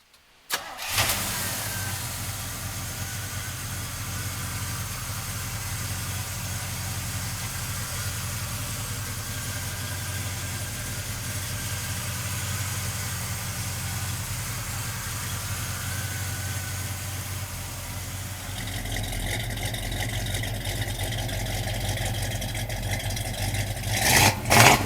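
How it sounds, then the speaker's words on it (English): A 1970 Chevrolet Chevelle SS with its numbers-matching 396 V8 cranks and fires almost at once, then settles into a loud, steady, rumbling idle that shifts in tone near the end. "we're going to fire up this 396"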